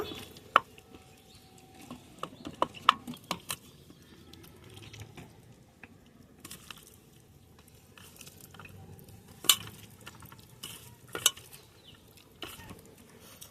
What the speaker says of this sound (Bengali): সব কিছু একসঙ্গে ভালোভাবে মাখিয়ে নিচ্ছি